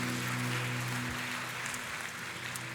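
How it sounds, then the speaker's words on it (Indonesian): A church congregation claps together in a steady, broad patter of applause, fairly distant, with a sustained organ or keyboard chord held underneath that fades partway through. "Kasih tepuk tangan yang paling meriah buat Tuhan kita."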